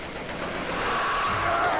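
Rapid gunfire from the video game Left 4 Dead 2 in a versus match, a dense steady burst of shots filling the short clip with no talk over it.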